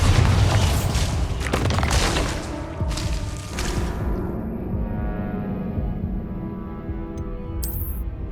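A Bombarda blast spell from the game Hogwarts Legacy goes off as a loud, deep boom with a long rumbling tail, fading into a quieter game-world ambience.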